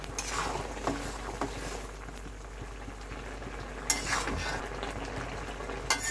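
Ground raw greens being stirred into a thin bata fish curry with three kinds of greens, a soft bubbling simmer under scraping spoon strokes, with a couple of sharper clanks against the pot.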